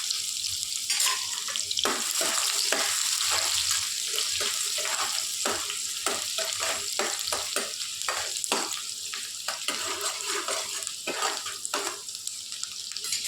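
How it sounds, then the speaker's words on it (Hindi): Chopped onions go into hot cumin seeds in oil while making dal khichdi and fry steadily. A continuous broad sizzle runs throughout, broken by repeated short scraping clicks as the pan is stirred. Nobody speaks. "ज़ीरे में हम ये प्याज ऐड कर देंगे। प्याज भी हमारी इसमें कुक हो जाएगी।"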